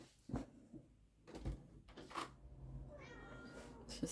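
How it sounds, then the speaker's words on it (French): A house cat meows a few times indoors, short fairly close calls mixed with light knocks and movement sounds in a quiet room. "Ah, voilà le chat."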